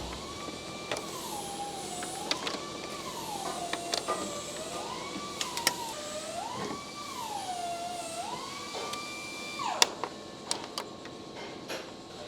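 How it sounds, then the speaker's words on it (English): Taillight bulbs on a 2013-2017 Nissan Altima being twisted and pulled from their sockets, with close squeaky plastic creaks and sharp clicks scattered through, no talking. "Then I'm going to take loose all of these bulbs, just twist them and pull them out."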